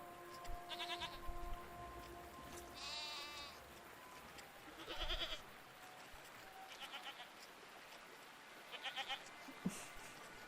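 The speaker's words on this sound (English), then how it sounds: "What are these strange goat-like creatures? Are they simply goats?" Strange goat-like creatures in the video game Lonely Road bleat several times in short, wavering calls spaced across the scene, moderately close over a quiet ambient background with no talking.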